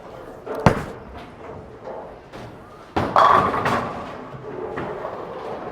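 A Storm Zen bowling ball with its out-of-box polish finish is thrown at a bowling alley: a sharp thud as it lands on the lane, then a steady rolling rumble and a louder strike at the pins, with faint voices around.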